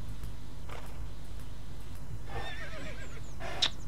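A horse neighing in the online game Star Stable Online, a short whinny over a constant low game ambience with faint hoof sounds, moderately loud and close, with no talking.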